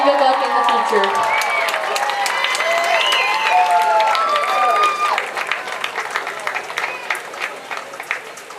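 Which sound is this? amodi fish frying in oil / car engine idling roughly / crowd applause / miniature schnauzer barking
crowd applause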